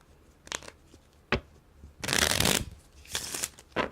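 Lenormand card deck being shuffled in several bursts: short riffling snaps, then a longer dense rustling shuffle around the middle, followed by further quick riffles, close and clear with no talking.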